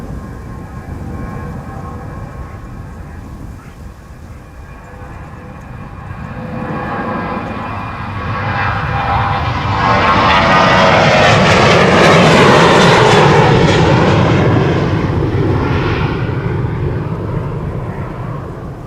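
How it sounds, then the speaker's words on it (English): A Transavia Boeing 737-800 jet at Schiphol's Polderbaan runway roars past, its engine noise building from a distant rumble to a loud, broad whine and thrust roar before easing slightly, with no voices. "Transavia flight 5471 to Mayon. This is a 737-800."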